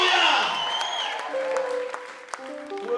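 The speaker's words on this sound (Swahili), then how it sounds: "Tupigie Yesu makofi mazuri katika jina la Yesu." A church congregation at a Sunday service applauds for Jesus, a loud burst of clapping that fades over a couple of seconds as sustained voices and tones carry on beneath.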